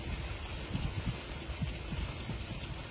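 Steady rain pours outdoors with gusting wind, a dense even hiss broken by soft low thumps and swells, continuous and moderately loud with no voices.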